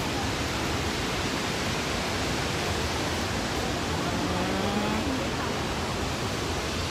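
Detian waterfall on the China–Vietnam border roars as a constant, heavy wash of falling water, loud and unbroken throughout, with no speech audible over it.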